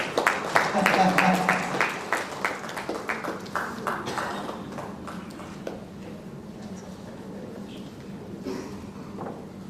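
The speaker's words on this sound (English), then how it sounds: "I would love to request you all to give a round of applause" Audience at a panel discussion breaks into a round of applause: loud, dense clapping at first that thins out and fades into scattered claps and room noise.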